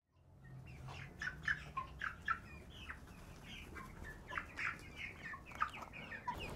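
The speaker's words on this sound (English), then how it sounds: "these birds are 4 weeks old and they are doing excellently well" A flock of four-week-old broiler chickens clucks and chirps in a soft, continuous chatter, with scattered louder calls rising above a low, busy background of many birds.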